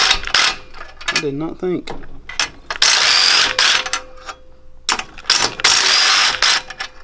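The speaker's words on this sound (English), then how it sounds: "Alright, so we're going to try to get these head bolts off. Ooh, old impact works." An old impact wrench breaks loose the head bolts on a 301cc Harbor Freight mini bike engine, firing in loud, repeated ratcheting bursts of a second or two with short pauses between them, while someone talks briefly close by.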